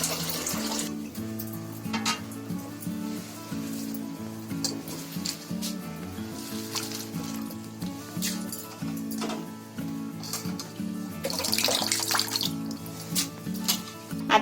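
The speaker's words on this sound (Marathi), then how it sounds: "मूग आपले भिजत टाकलेले असलेले ना, तर हे असे धुवून घ्यायचे परत." Soaked mung beans being washed in water, with continuous close splashing, sloshing and trickling for the whole stretch and bursts of louder rinsing now and then; no one speaks.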